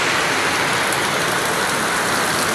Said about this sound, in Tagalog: Ayan, malakas yung ulan.